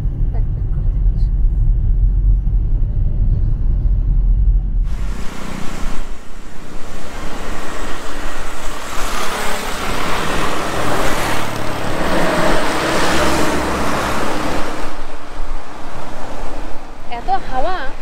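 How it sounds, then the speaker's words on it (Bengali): Strong wind buffeting around a Hyundai Grand i10 hatchback, a loud broadband roar that rises suddenly after a low rumbling start and keeps surging unevenly to the end. "এত হাওয়া"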